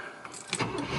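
A 1978 Cadillac Eldorado Custom Biarritz, a classic barn find, cranks and fires up. Its engine catches after a brief churn and swells into a loud, rough, full running roar.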